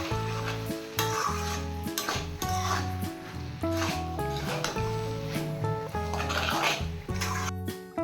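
Taro being stirred in a pan with salt, sugar and a little water, with wet scraping and a soft sizzle under steady tonal background music.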